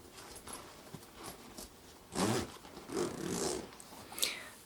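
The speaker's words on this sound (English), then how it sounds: "That's all zipped back up." A travel bag gets zipped up during a quiet airport security bag check, with several soft, close zipper strokes and faint rustling between them.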